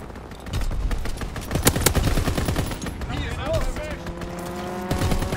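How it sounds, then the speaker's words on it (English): Gunfire from an aircraft strafing run in Call of Duty WW2 rattles in rapid, loud bursts, with engine noise and game effects layered beneath. "Strafing run inbound."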